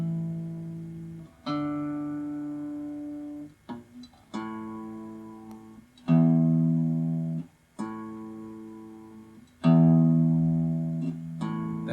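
Finger-picked guitar accompaniment notes, played close and clear: sustained plucked chords and individual notes ring out in separate phrases, each decaying before the next set of strings is picked.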